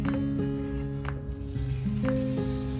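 Butter sizzles in a hot pan before chicken breast goes in, a steady close hiss and crackle layered over sustained tonal background music, with no one talking.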